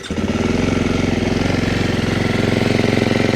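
A dual sport motorcycle engine with an unrestricted exhaust end cap runs at a steady idle, giving a loud, close, throbbing rumble with an even pulsing rhythm and no voices.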